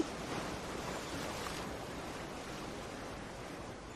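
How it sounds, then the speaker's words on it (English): Ocean waves in a continuous, broad wash of surf with a faint windy rush, steady and fairly soft, with no voices. "The ocean sounds"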